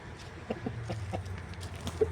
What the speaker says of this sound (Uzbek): Mana bu yerda makyollarimiz yuribdi.